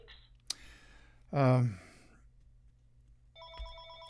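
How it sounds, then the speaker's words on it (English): A telephone rings with an incoming call, a short two-tone electronic ring near the end following a sharp click and a sigh-like breath, heard indoors at moderate volume. "incoming phone call. They'll leave a message."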